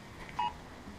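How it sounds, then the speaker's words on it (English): Brief electronic alert tone from a phone issuing a flash flood warning, a single faint beep over steady background noise. "that just came across the phone for a flash flood warning"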